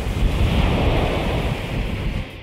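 Large ocean waves break and roll in a steady, loud roar of surf, mixed with wind noise and no voices.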